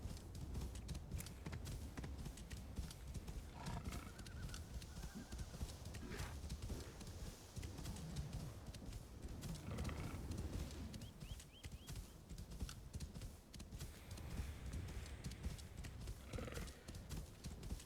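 Rhythmic clip-clop of horse hooves in Assassin's Creed Shadows runs throughout, with occasional whinnies breaking through over a busy, steady background.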